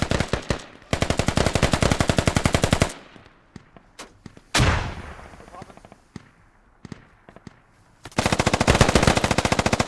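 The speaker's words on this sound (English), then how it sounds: "good covering fire there by the US" Rapid automatic gunfire from a Squad video game battle, with loud sustained bursts at the start and end and scattered single shots and a sharp blast in between.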